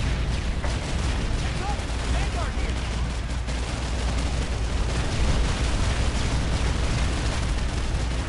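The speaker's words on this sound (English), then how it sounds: "they're shooting tank shells at us." Tank shells firing and exploding in the Planetside 2 battlefield, a dense, continuous roar of booms and blasts layered loudly throughout, with voices talking over the din.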